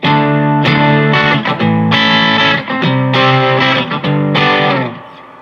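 Electric guitar played loud and thick through a boost pedal overdriving a Supro Black Magick amp, with repeated strummed chord phrases separated by brief pauses.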